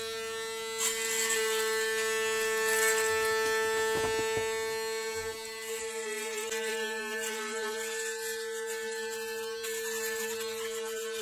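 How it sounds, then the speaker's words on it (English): A Panasonic Arc 3 electric foil shaver buzzes steadily with a bright, tonal hum, close up, its pitch wavering slightly as it runs. "I just want to switch over and compare to my foil shaver real quick."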